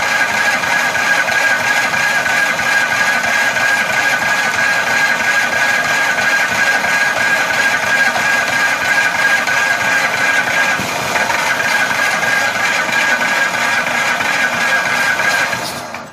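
A vintage Snapper walk-behind mower's small engine idles steadily and loudly for the whole stretch, a constant droning hum with a faint mechanical rattle, cutting off abruptly at the end.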